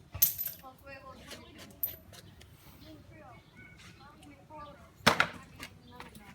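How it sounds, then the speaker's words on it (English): A piece of chalk is struck to knap off a flake, giving a few sharp, distinct cracks spaced seconds apart over quieter background sounds. "All I'm going to do is try and cut a flake right through there."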